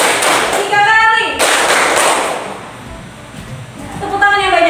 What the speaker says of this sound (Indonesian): Tepuk 1 kali, 2 kali, 3 kali.